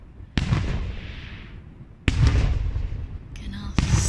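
Garden fireworks go off in a few sharp, loud bangs, each followed by a crackling, fizzing tail, with a brief voice heard between bursts.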